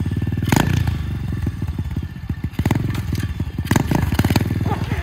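A Coleman mini bike with a small single-cylinder engine, towing a furniture cart, sputters and chugs unevenly with repeated bursts of clattering revs that keep faltering, loud and close throughout.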